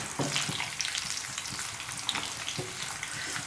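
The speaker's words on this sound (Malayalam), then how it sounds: "കറിവേപ്പില ഇട്ട് കൊടുക്കാം. ഇപ്പോൾ ഇതും ഫ്രൈ ആയിട്ട് തന്നെ വന്നിട്ടുണ്ട് കേട്ടോ." Curry leaves crackle and fry in hot oil, a steady close sizzle with scattered sharp pops, part of making soya 65; no voices.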